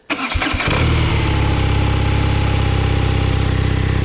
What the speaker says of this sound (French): Maintenant, on va démarrer ce Flat Twin.